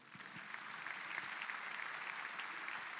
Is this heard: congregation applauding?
yes